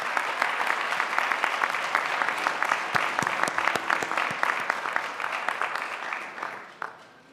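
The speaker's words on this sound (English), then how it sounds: "Let's give applause to Dr. Harris Perry." Sustained applause from a crowd at a high school graduation ceremony, many hands clapping in a dense, steady roll that thins out and fades near the end.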